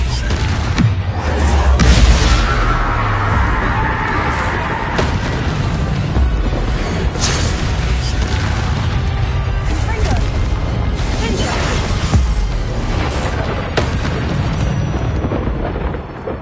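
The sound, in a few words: Confringo explosive spell from Hogwarts Legacy video game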